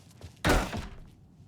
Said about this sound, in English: Shoulder charge this door.